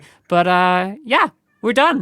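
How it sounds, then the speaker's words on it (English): A cat meows loudly in the room, two drawn-out, harmonic-rich meows with a shorter one between, close and clear, while a person talks briefly. "I'm sorry about the cat meowing in the"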